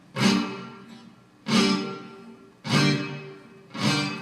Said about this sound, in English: When you play a downstroke and you mute the string, this is how it will sound.